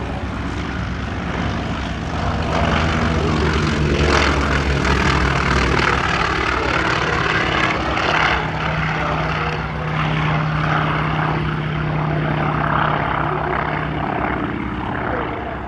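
A carrier-capable military propeller aircraft with a tail hook, flown by US and Australian forces and later a Qantas trainer, drones steadily overhead at the Shellharbour airshow in 2024, its engine roar loud and sustained with a faint voice beneath.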